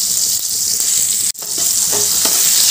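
Small tomato pieces sizzle and fry in hot oil with nigella seeds, a loud, steady crackling hiss broken once by a brief dropout, with faint stirring clinks near the pan.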